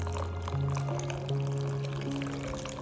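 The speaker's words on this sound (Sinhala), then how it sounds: "වතුර ටිකකුත් එකතු කරගත්තා." Water poured into a simmering tikka masala curry base of tomato paste and spices, a steady close splashing pour with a rising pitch as the pan fills.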